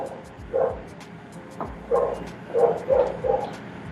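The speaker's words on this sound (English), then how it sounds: "It looks like there's a dog that is very interested in this game." A neighbor's dog barking and yipping in the distance, a handful of short, faint barks spaced irregularly over a quiet background.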